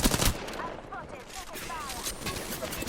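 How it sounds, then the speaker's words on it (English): Rapid gunfire in the game Flash Arena crackles in quick bursts, opening with a loud shot and continuing as a fusillade under brief voice callouts. "Taking fire."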